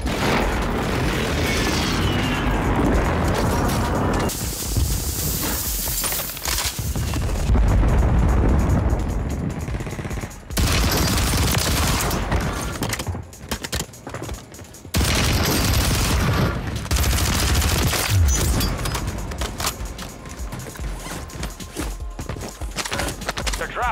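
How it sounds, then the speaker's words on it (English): Airstrike explosions in the shooter Warzone 3, loud booming blasts and rumbling bursts arriving in several heavy waves across the stretch, with short quieter gaps between them and an occasional radio-style voice. "Hostile airstrike near your location."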